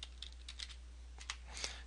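A handful of soft, quick keystrokes on a computer keyboard, faint and close, spaced irregularly over a low steady hum.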